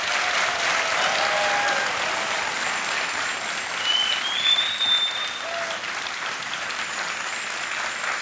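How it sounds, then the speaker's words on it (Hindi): Loud, sustained studio audience applause on a TV quiz show, a dense unbroken roar of clapping filling the whole stretch, with a few faint electronic tones sounding over it. "तालियां बजनी चाहिए जोर से।"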